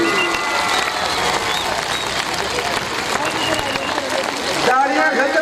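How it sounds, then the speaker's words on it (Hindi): Sustained applause and clapping from a large welcoming crowd at an outdoor reception in Kahuta, loud and continuous throughout, with cheering and voices mixed in. "तालियां खत्म नहीं होंगी।"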